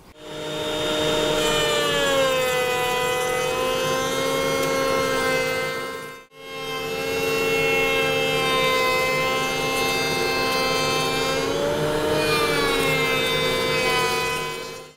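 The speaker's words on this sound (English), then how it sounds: "I'm ready to go ahead and make the first cut on my piece" A router table cuts a long miter along a wood board, producing a loud, sustained high-pitched whine with a steady tonal drone, briefly dropping out mid-cut before resuming with a slight pitch wobble.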